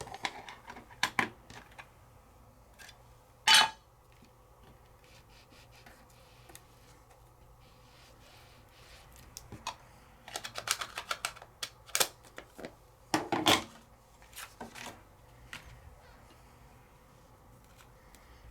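An embossing folder cranked through a die-cutting machine for a double emboss gives quiet rolling with a few short bursts of clicking and rubbing, one near the start and a cluster later, separated by near silence.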